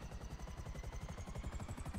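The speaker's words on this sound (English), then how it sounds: "I do want to get into a helicopter and spawn one of my helicopters" A helicopter in the video game GTA 5 drones with a steady, pulsing rotor thump and engine whine, continuous and moderately distant throughout, with no talking.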